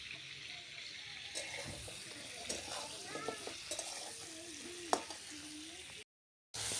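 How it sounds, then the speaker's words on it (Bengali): A spice paste sizzles softly in a pan while a utensil stirs and scrapes through it, quiet and close, with faint watery sounds and a few brief clinks before it cuts to silence. "মশলা কষানো হয়ে গেছে"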